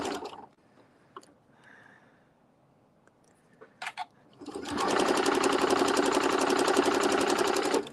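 A sewing machine stitches a quilted holiday wreath after a few quiet handling clicks. It then runs in a fast, steady, close whir to the end.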